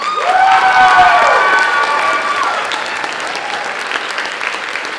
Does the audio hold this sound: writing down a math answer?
no